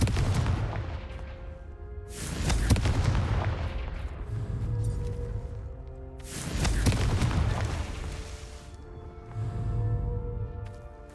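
Confringo fire spell from the Hogwarts Legacy video game, producing loud booming blasts that roll in repeated waves over a constant rumbling backdrop, dense and close.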